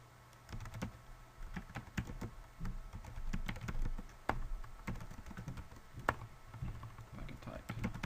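Computer keyboard typing in an office setting, a steady run of light clicking keystrokes with irregular rhythm, close and moderately quiet, with no talking over it.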